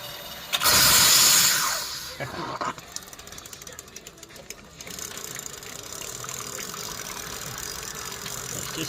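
A 3-inch scale Fowler steam engine with leaking cylinders opens up on more steam, giving a loud sudden burst of hissing and chuffing that settles into a steady running rumble with voices around it.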